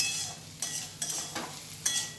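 Close spatula strokes, about four of them in an even rhythm, scrape through kudli and coconut frying in a pan, each stroke rising briefly above a steady, soft sizzle.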